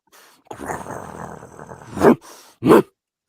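A large dog growls low and rumbling for over a second, then gives two short, loud bursts of sniffing or snorting, heard close and alone.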